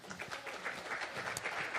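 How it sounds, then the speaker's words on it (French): Audience applause in a lecture hall, steady and fairly soft, greeting a speaker, a researcher on grapevines under drought stress, as she walks down the stairs; a dense, even wash of clapping with no voices. "vous pouvez l'applaudir pour l'encourager pendant qu'elle descend les escaliers"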